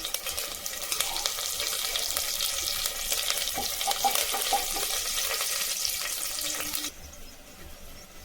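Curry leaves and whole spices such as cardamom and star anise sizzling in hot oil for coconut milk rice, a bright crackling fry close by that drops to a quieter sizzle near the end.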